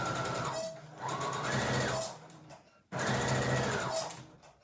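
A sewing machine stitches fabric for a bolster cushion with zip and piping, running in bursts of fast, close mechanical chatter that pause briefly between runs, with no speech.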